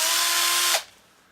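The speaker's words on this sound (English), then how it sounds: "Little bit of drilling." A power drill whirs steadily into a Rickenbacker 4003S bass guitar, one continuous high-pitched burst lasting under a second that cuts off abruptly, leaving near silence.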